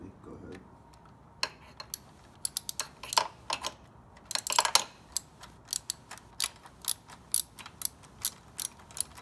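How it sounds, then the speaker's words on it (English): A frame bolt being tightened on a motorcycle while a protective cage is fitted: a string of crisp ratchet clicks, first scattered and then quickly repeated at close range, with a busier spinning burst midway. "I'm going to screw in the frame bolt on the right side of the bike"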